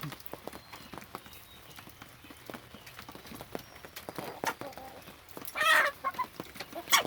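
Lavender and blue Orpington chickens cluck and chatter in an outdoor yard, with scattered short calls and a louder burst of activity near the end.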